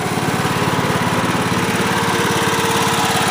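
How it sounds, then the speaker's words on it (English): A Honda riding lawn mower engine idles steadily at low speed, a close, constant rumbling drone with an even pulsing rhythm. "There's the engine running right there. It sounds great on low speed."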